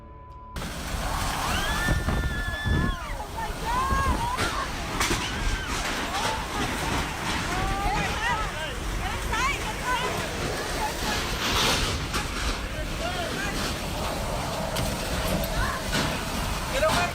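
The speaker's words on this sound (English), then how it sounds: "Footage taken during the heart of the storm gives new meaning to the term Texas flood." Rushing floodwater and heavy rain during a violent storm in Texas, a loud continuous wash of water and wind that carries through the whole stretch with no break, with scattered bursts of splashing and voices calling out over it.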